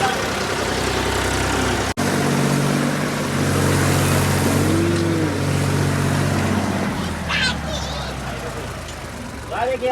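A tractor engine runs steadily nearby with a low idling rumble that is loud throughout, while voices talk over it at a house where filling work is under way.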